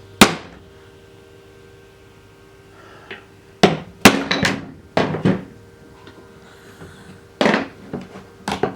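Sharp, loud hammer blows strike a wooden part while an Ashford Traveller spinning wheel is assembled, irregular single knocks and quick pairs spaced across quiet gaps.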